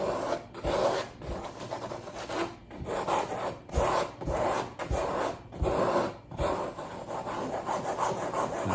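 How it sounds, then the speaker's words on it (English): Stiff brush rubbed and pushed into canvas with oil paint, a dry scrubbing rasp in repeated strokes about once a second, close and steady with no talk. "fill it in, rub it into the canvas, push it right into there."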